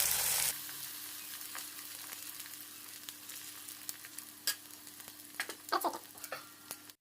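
Rice batter sizzles steadily in a hot pan, a soft continuous hiss with a few sharper crackles and pops building toward the end, no voices.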